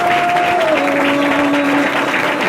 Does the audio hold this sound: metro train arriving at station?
no